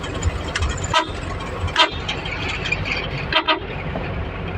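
Car horns honking in passing road traffic on a rural drive, three short separate blasts standing out over steady engine and road noise, fairly close and loud.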